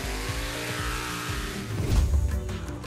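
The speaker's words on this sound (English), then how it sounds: "He would have been done for if not for the monster truck." A toy monster truck engine revs and growls at close range, rough and uneven, swelling louder toward the end with a gritty burst.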